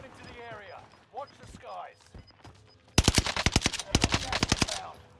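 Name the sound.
burst automatic gunfire in a video game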